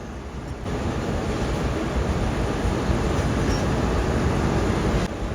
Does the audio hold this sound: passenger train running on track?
yes